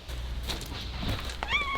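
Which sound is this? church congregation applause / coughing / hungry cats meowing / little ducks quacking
hungry cats meowing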